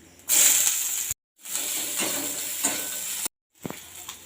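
Panch phoron spices and chopped onion hit hot oil with a loud, bright sizzle that surges, cuts out briefly, then resumes, with a few soft stirring knocks and no voices.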